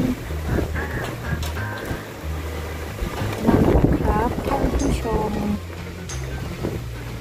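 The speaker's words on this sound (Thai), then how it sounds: "ตอนเช้าตื่นมาก็คือฝนก็ยังคงตกต่อเนื่อง ตั้งแต่เมื่อคืนตกยังต่อเนื่อง" Rain and wind batter an outdoor spot on a rainy morning in Mui Ne, Vietnam, with gusty wind noise buffeting the microphone and a steady background roar, while low hums and a few brief voices sit in the mix.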